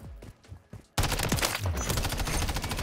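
Rapid bursts of gunfire in a shooter video game, a few sharp shots at first, then a loud sustained barrage of automatic fire lasting several seconds.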